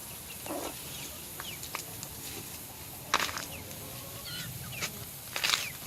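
Backyard chickens with chicks and roosters, a large Sussex-type rooster among them, give scattered clucks and a few sharper calls over steady outdoor ambience, moderately near.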